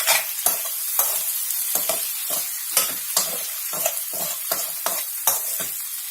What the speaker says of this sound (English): And again give this a very good mix.